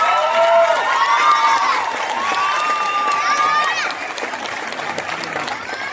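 Crowd applause and cheering at an award ceremony in Glukhovets, a loud sustained clapping wash with raised voices and shouts riding on top, easing slightly toward the end.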